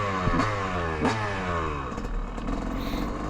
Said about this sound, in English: this is the 250 two-stroke now